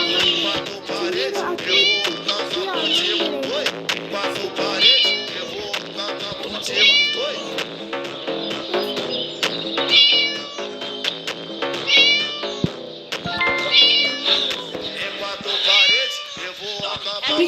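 Repeated cat meows from the Scary Teacher video game, loud and frequent across the whole stretch, mixed with busy game noise and music.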